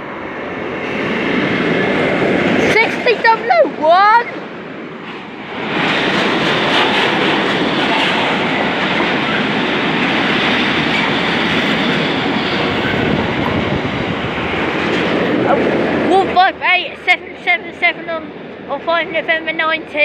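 A train runs through the Newark Castle station level crossing in Nottinghamshire, a loud, sustained rumble and rail clatter, with shrill tonal squeals or horn-like notes near the start and again at the end.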